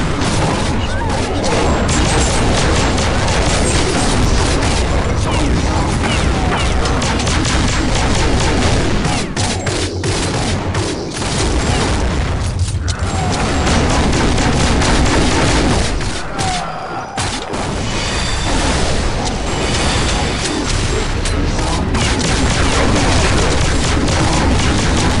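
The M3 Azhidahaka, an epic shotgun in the Counter-Strike Nexon video game, fires heavy, booming blasts in a near-continuous barrage of loud shots with crashing impacts, broken by a few brief pauses.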